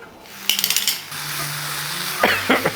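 Greens sauteing in a hot pan, a soft continuous sizzle broken by quick bursts of utensil scraping and tapping against the pan, close and clear.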